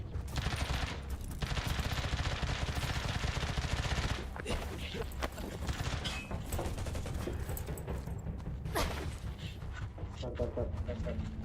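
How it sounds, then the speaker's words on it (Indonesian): Rapid automatic gunfire rattles in dense bursts in the Undawn shooter game, heaviest early on, then gives way to scattered shots and mechanical clatter while a player talks. "Tembakan."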